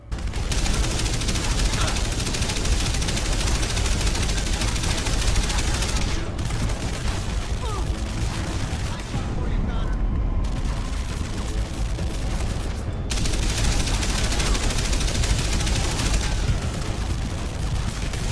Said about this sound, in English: He's over there shooting at me.